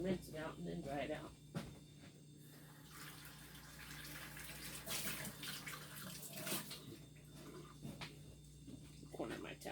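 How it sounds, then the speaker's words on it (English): Water runs from a kitchen tap as a measuring cup is rinsed while baking condensed milk bread, a steady close splashing hiss under continuous talking. "Or rinse it out and then dry it out."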